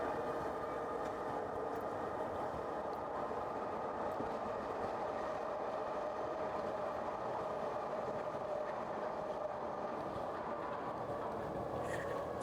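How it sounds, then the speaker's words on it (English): A train rolls past a street in South Philadelphia, a loud continuous rumble and rattle of rail cars that fills the whole stretch without letting up. "Let me just wait for this train."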